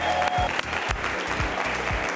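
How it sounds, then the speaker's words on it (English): Studio audience applause on a Nigerian televised quiz show, a continuous close patter of clapping with a few sharper individual claps and low thumps running under it. "A round of applause for her, please."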